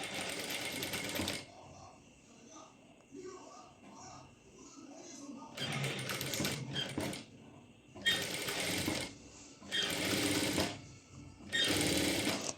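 A sewing machine top-stitches garment lining in several loud, rapid bursts of whirring needle action, separated by quieter pauses where a person talks.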